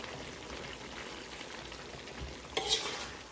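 Chop suey vegetables sizzle in a hot pan while being stirred, giving a steady frying hiss with a brief scrape and clatter of the utensil near the end.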